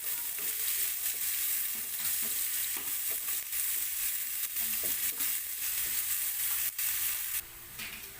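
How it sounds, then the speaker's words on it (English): Onion sautéing in a pan for dal fry, a continuous close sizzle with small irregular crackles and stirring ticks, easing slightly at the end. "cook the onion until it gets translucent"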